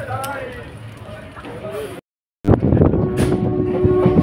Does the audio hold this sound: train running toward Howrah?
yes